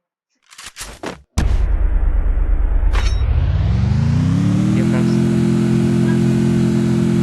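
A vehicle engine in the video game Free Fire Max starts after a few short bursts, then holds a loud, steady low hum that rises in pitch and settles into a constant drone.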